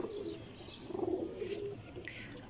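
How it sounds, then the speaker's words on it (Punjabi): A pigeon coos nearby in soft, low, rolling notes over faint background noise. "ਇਹ ਕਾਲਾ ਕਬੂਤਰ"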